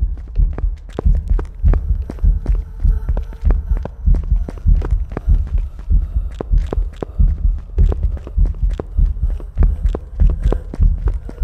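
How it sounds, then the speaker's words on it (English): A loud, heavy ghost heartbeat from the Phasmophobia video game thumps in a steady, fast double-beat rhythm throughout, close and dominant. "her heartbeat is like super duper loud too"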